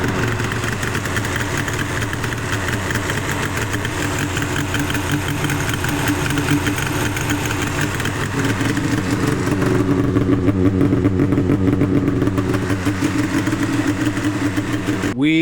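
A snowmobile engine idles steadily and fairly loud and close, running on its own with the airbox off, a continuous rumbling drone with some mechanical clatter throughout.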